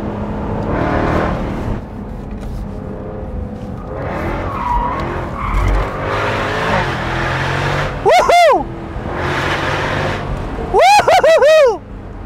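A supercharged 5-liter V8 Jaguar F-Type R, a 2021 roadster driven with the roof open, growls and revs steadily while its tires squeal in sharp, loud bursts near the end.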